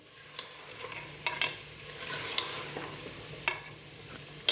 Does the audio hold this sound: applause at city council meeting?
no